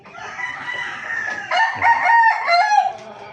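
Gamecock roosters crow loudly nearby, with long drawn-out calls overlapping against faint backyard farm background noise.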